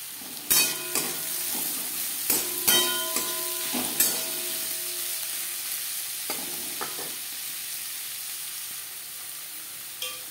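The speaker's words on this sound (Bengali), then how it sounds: "এবার দিয়ে দেবো পেঁয়াজ কুচি।" Chopped onions fry in hot oil for a chela fish curry, a continuous loud sizzle broken by several sharp clacks of a utensil against the pan in the first few seconds, with no talking.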